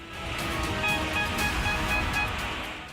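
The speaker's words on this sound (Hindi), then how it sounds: "दहाड़ती लहरों का शोर" A flooding river roars over a dam's waste weir, its powerful churning water making a loud, steady rushing surge with broad, noisy texture and no voices.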